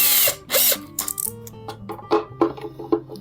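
A power drill bores a hole in a plastic container, giving short whirring bursts and ratcheting grinds in irregular spurts, close and moderately loud.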